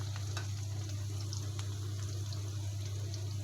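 Chopped onions with crushed garlic fry in a pan, a soft steady sizzle over a constant low hum, faint and unbroken with no speech.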